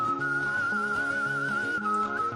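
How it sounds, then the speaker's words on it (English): A person whistles a sustained, wavering melody line played back from a shared screen, clear and continuous over soft accompanying tones, with no talking. "So he's whistling"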